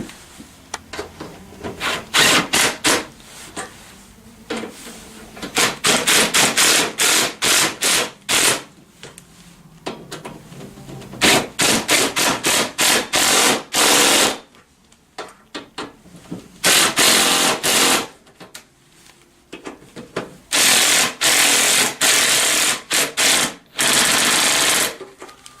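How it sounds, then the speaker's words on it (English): Cordless drill driving bolts while assembling a Tao Tao ATM50A scooter, in repeated bursts of loud whirring that start and stop across the stretch, with short pauses between runs and no talk. "I'm going to cheat because I'm going to use my drill gun"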